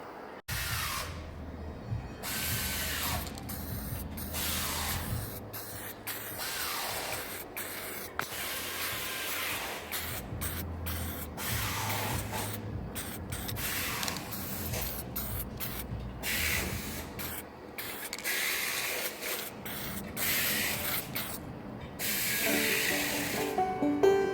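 Repeated hissing bursts of an aerosol spray can painting metal brackets from a Nissan 350Z, short and long sprays in an irregular rhythm with brief pauses, close by and fairly quiet.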